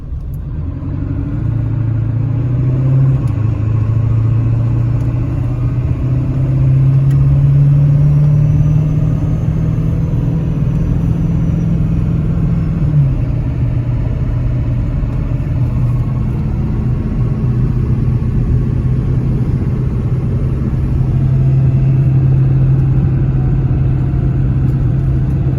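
A 1996 Ford F350 with a 7.3L PowerStroke turbo diesel accelerates on the road, its loud, steady, low rumble swelling and holding as the engine pulls hard, with no voices over it.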